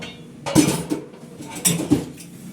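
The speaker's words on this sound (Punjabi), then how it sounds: "ਮੈਂ ਕਿਹਾ ਚਲੋ ਹੁਣ ਭਾਂਡੇ ਵੀ ਨਵੇੜ ਦਿੰਦੇ" Dishes, pots and steel utensils being washed with fresh water in a home kitchen give close, uneven clinks and clatters, several sharp knocks in quick succession, with no voices.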